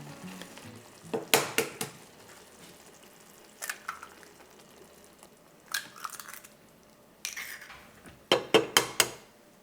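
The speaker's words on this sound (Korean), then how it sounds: "이제 계란이 익을 때까지 약불에서 조금 기다려 주겠습니다" Shakshuka with eggs set into a reduced tomato sauce, cooking in a pan on low heat, giving a quiet steady simmer with scattered soft crackles and a few sharper clinks of cookware.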